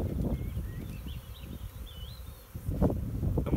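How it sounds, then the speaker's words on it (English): Honey bees hum in a low, steady drone close by, being shaken off a hive frame, with a rougher burst of buzzing and handling noise near the end. "I'm gonna shake these bees off"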